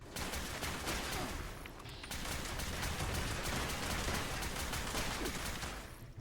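Rapid, dense enemy gunfire from the video game Fallout 76, sustained bursts of shots crackling loudly throughout with only a brief lull near the start, no voices over it.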